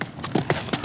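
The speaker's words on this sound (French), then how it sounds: "il entendit le galop d'un cheval" Horse galloping along a roadside, a quick run of three or four close hoof beats heard clearly with a faint voice underneath.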